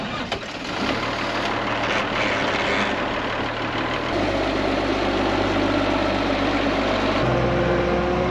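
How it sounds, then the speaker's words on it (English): A loader tractor's diesel engine idles close by with a steady, loud, low rumble. The engine note shifts slightly a couple of times, with no talk. "I'm gonna go ahead and throw it in the loader tractor here"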